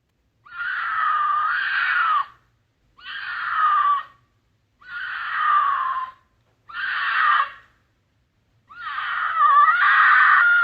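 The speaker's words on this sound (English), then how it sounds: "This is a mountain lion screaming." A recording of a mountain lion screaming plays five long, harsh, wavering cries separated by short pauses, loud and alone, with no talking.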